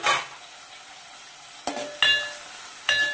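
Tomatoes and onions cook in a pan for spring onion chicken curry: a sharp clatter as the pan is stirred, then a quiet sizzle broken by three louder scraping stirs.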